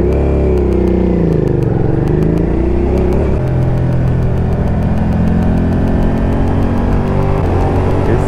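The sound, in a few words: motorcycle riding with a first-time passenger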